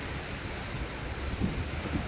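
Steady wind roars and buffets the microphone, rising into a couple of stronger gusts toward the end, with no voices.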